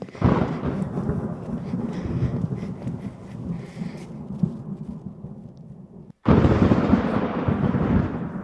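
Thunderstorm effect for a stage production of The Sound of Music: a long, loud, rumbling roll of thunder, then a brief cut and a fresh crash that keeps rumbling on.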